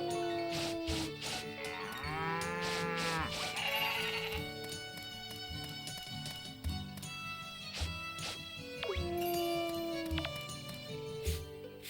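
Story of Seasons farm cows moo and bleat in several drawn-out calls over a busy, tuneful game music bed, with a person talking quietly underneath.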